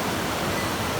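A powerful waterfall roars in a jungle setting, a dense unbroken rush of falling water that is loud and close and fills the whole moment with no other sounds.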